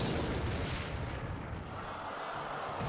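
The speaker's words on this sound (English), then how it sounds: "he's going to rocket it" A rocket spell explosion in the Clash Royale mobile game makes a loud, rumbling broadband boom that holds steady for about three seconds before easing slightly toward the end, with no voices over it.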